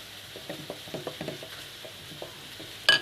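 Egg batter with flour and baking powder is stirred in a bowl, a quiet series of soft irregular scraping and tapping strokes, ending with a brief louder clatter, no talk.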